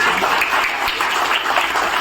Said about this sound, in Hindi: जोरदार ताली बजाइए इनके लिए